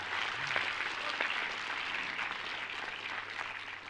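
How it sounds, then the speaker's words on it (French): Steady, fairly quiet audience applause in a hall at a French project launch presentation, a continuous even wash of many hands clapping without talk. "Je vous demande de les applaudir."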